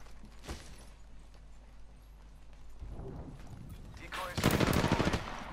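Gunfire in the Apex Legends video game: a few distant shots early on, then a loud rapid burst of automatic fire near the end, with faint game ambience between.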